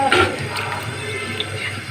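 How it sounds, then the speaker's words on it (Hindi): A jug of water gushes and splashes as it is poured into a pot of cooking mutton, a close, rushing pour lasting a couple of seconds. "अब मैं इसमें 1 जग पानी डालूंगी"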